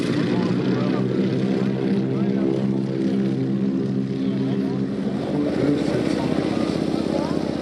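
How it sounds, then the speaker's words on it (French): Twin-engine propeller planes, a Lockheed Electra followed by a Beech 18, fly past at an air show, a loud continuous droning engine roar with steady throbbing propeller harmonics, a voice faintly talking over it. "le Lockheed Electra et derrière lui le Beech 18"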